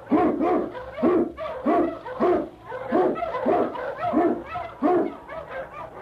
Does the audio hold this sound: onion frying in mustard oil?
no